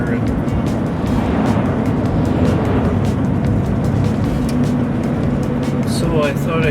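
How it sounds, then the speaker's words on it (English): Highway traffic rushes past a van on a mountain valley road near the Okanagan Valley, a steady, close road roar of passing vehicles with someone talking over it. "Traffic always gets busier as you get closer to the Okanagan Valley."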